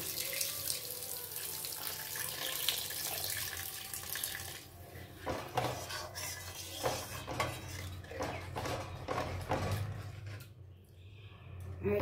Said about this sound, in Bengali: এবারে আমি গরম জল দিয়ে দেবো এর মধ্যে